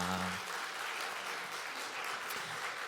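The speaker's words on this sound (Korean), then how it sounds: "브라스 밴드 한 해 동안 수고했다고 하나님 앞에 영광의 박수를 올려드리겠습니다" A church congregation claps for the brass band in a continuous, full round of applause that fills the room, with a brief held instrument note fading at the start.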